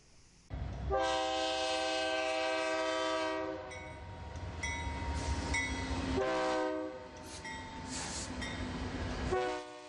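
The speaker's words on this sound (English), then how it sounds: "we're all used to the horns and the sound of the cars passing" A loud BNSF freight train horn blares in long sustained blasts, repeated several times, over the steady rumble and clatter of train cars rolling past nearby in Ottumwa.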